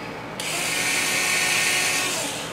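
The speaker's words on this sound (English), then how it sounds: "1/16 inch bit again, and we're going to drill through there." A small electric drill with a 1/16 inch bit whirs steadily for a couple of seconds, a high, even buzz starting abruptly after a brief pause, close by with no talking.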